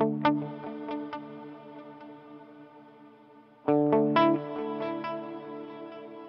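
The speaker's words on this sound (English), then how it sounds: "This is a really long delay" An electric guitar running through a long simple delay preset on a Line 6 Helix plays two separate chord phrases, each followed by soft repeating echoes that ring out slowly. No one speaks.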